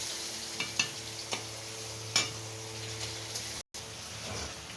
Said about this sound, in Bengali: তো ওই জন্য মাঝখানে একটু নেড়ে দেবো, না হলে তলা ধরে যেতে পারে